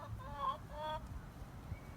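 A small flock of rescued backyard chickens on the southern Oregon coast clucks softly in a couple of short, faint calls, with quiet ambient outdoor noise around them.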